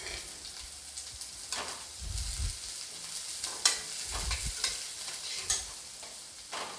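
Finely chopped green onion whites fry with garlic in hot oil for fried rice, giving a soft steady sizzle punctuated by intermittent spatula scrapes and stirring knocks.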